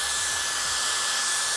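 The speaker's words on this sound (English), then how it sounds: "I do want to show you guys how you can kind of use it as a hair dryer as well" A Dyson Airstrait straightener used as a hair dryer, blowing air with a loud, steady, close-up hissing roar throughout and no talking.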